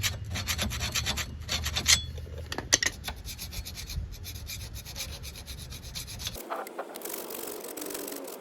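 Rust is filed off a brake hub on a 2015 Mazda CX-5, a close, steady rasping scrape in repeated strokes that ends abruptly and gives way to a quieter hiss.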